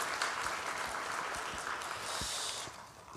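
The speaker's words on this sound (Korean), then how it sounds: "박수하겠습니다" A church congregation applauds together after a Korean sermon. The clapping is a dense, warm patter that holds steady and then thins toward the end.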